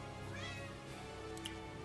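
A cat meows faintly a couple of times over a steady background hum, with no talking.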